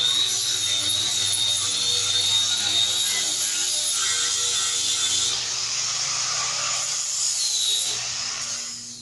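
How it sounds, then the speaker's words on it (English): A power grinder works steadily on a welded stainless steel countertop, a loud, continuous high whine with shifting pitch that tapers off slightly at the end. "I'm just gonna grind down anything that may interfere with us gluing down the tops"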